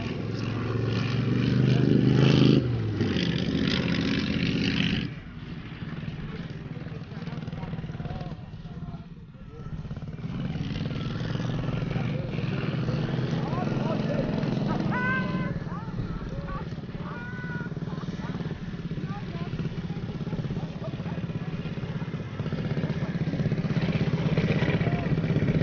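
Vintage race motorcycles and cars, including a four-cylinder and a V8, roar and rev as they pass at a beach race in Normandy, loud at first then easing off, with someone talking over the mechanical drone.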